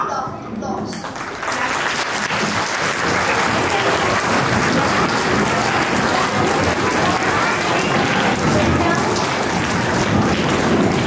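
Audience applause welcoming the judges at a junior school folk dance competition, swelling quickly after a brief quieter moment into loud, dense, sustained clapping from a large crowd that fills the remaining seconds.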